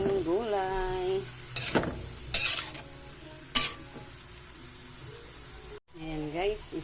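Vegetables seasoned with pepper are being stirred in a pan for lumpia togue, giving scraping utensil strokes and a light sizzle. A voice speaks over the cooking at the start and again near the end.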